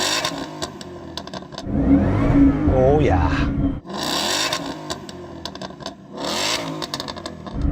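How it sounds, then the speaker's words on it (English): A Ford Mustang engine of about 735 hp revs up hard in bursts, with a rising and falling roar and a clattering idle between pulls. Someone speaks briefly over it. "So I'm going to rev up this Ford."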